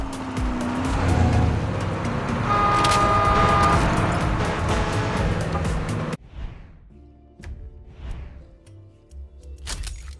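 A car engine drones steadily while driving in the video game Far Cry 6, with tire noise and rising revs, then cuts to quieter, broken engine and road sounds in the final seconds.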